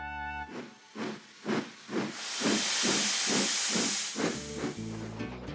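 Thomas the Tank Engine, a steam locomotive, chuffs in a steady run of about nine rhythmic puffs, then lets out a long, loud broad hiss of steam, with music underneath at the start and end.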